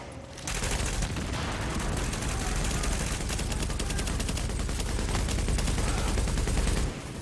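A light machine gun in The Division fires one long sustained burst of rapid, loud, close automatic shots that runs for several seconds before cutting off.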